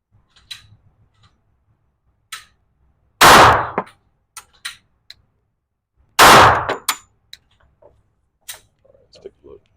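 Two loud, sharp pistol shots from a Glock 21SF Gen 3 at a shooting range, a few seconds apart, with quiet talk and small clicks in between.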